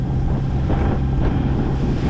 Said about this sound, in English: Let the engine do the work.